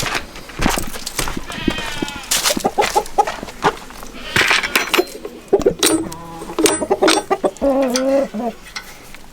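A rooster crows loudly nearby among clucking hens and bleating goats, with the calls coming in uneven bursts.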